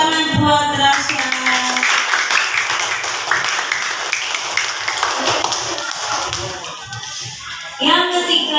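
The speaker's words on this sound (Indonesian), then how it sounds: "Ya, tepuk tangan buat Rasya." Children in an elementary school classroom clap together in a dense, lively burst of applause that fills most of the clip, with brief speech at the start and again at the end.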